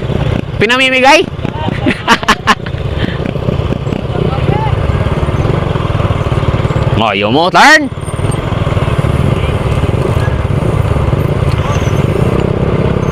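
A motorcycle engine runs steadily through the whole stretch, loud and continuous, as riders pull a U-turn on a street during a casual tune-up game; people talk and shout over it.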